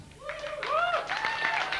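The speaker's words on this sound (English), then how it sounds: "Keep that applause going for Dave Grant." A comedy-show audience breaks into applause, the clapping swelling quickly from a quiet start into a full, steady round mixed with a few cheers.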